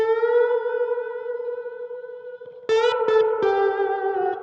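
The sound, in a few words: guitar through Supro Montauk amp with reverb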